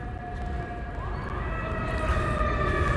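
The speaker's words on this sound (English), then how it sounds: "if you're hearing that siren, there's a fire station that's nearby here, and that's the sirens that you're hearing." A wailing fire engine siren with steady rising and falling tones from a nearby fire station in Seattle, fairly distant, over a low rumble of outdoor traffic noise.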